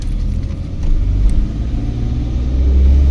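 A Maruti Alto car rolls over road bumps near Devla village, with a steady low engine rumble and heavy cabin thumps, fairly loud and without talk.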